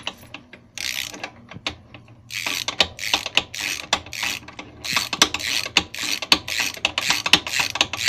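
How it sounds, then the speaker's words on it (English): Wrench ratcheting as bolts are hand-tightened on a Honda CM400E motorcycle, bursts of rapid close clicking and rasping in quick repeated runs with brief pauses, no talk. "Now I'll just take my wrench and hand tighten those."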